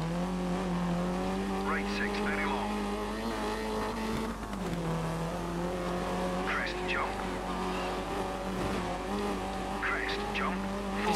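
A small Dirt 3 rally car drives with a steady droning engine note that dips and rises, broken by several sharp tire squeals and skids, while a voice talks faintly in the background.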